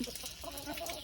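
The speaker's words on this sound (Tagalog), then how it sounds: "Ayan, may manok pa, oh, laga." A chicken clucks in short, soft bursts against a busy, noisy outdoor background.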